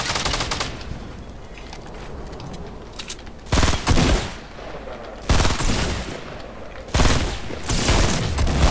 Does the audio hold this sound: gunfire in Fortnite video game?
yes